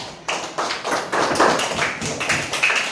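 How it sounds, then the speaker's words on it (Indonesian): A classroom of primary school pupils claps for a classmate in a lesson, a burst of uneven hand claps that swells and thins over a few seconds, fairly close and with no talking over it. "tepuk tangan dulu untuk Kaila"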